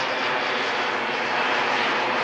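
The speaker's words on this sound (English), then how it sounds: "Here comes the plane." Airplane engine roaring steadily as a plane comes in at an airport, a loud continuous broadband drone filling the whole moment without any voices.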